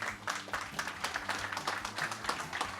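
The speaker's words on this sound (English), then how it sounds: "we can give them a big round of applause" Audience members at a Paris API tech meetup at the Algolia venue give a round of applause: steady, dense clapping from a moderately sized crowd at a fairly even level.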